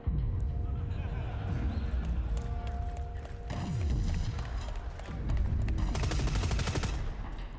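A heavy machine gun fires in the sci-fi shooter Dust 514, with dense rapid bursts, mechanical clatter and rumbling impacts layered over game background noise, loud and close, with people talking throughout.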